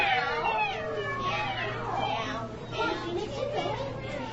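A voice imitates kittens meowing with a string of high, wavering, drawn-out mews one after another, close and clear.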